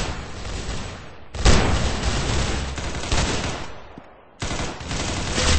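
Dense bursts of gunfire in the Roblox-style shooter Arsenal, loud rapid shots crowding together in two long volleys separated by a brief lull, harsh and close.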